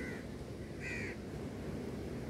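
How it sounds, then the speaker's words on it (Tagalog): Crows caw in trees near the sea in Ras Al Khaimah, UAE: two short harsh calls, one faint and one louder and nearer, over steady broadband wind or surf noise. "sarap ng tulog kasi napapaligiran ako ng mga uwak"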